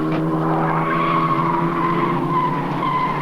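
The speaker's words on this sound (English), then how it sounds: "Goodyear Ducaro's being tortured everywhere around the circuit. Tyre squeal" Goodyear tyres on HQ Holden race cars squeal hard through a corner at Baskerville circuit in 1991, a loud sustained screech layered over engine drone, steady for the full length without talk.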